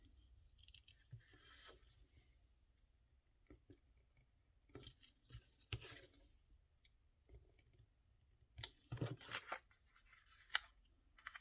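Scissors snipping paper for a one-page ephemera craft, a few quiet separate cuts with soft clicks and rustles spread over a near-silent background, a denser run of snips toward the end.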